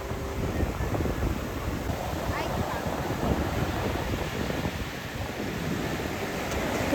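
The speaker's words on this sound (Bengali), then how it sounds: "সমুদ্রের ঢেউগুলো যখন গর্জন করে পাড়ে এসে আছড়ে পড়ছে" Ocean surf roars continuously onto the shore at Puri Golden Beach, a dense rushing wash with wind buffeting the microphone and no clear breaks between waves.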